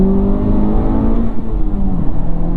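Honda Civic Type R FL5 accelerating hard in second gear, a loud steady engine drone with rising harmonics throughout, close and continuous with no talk.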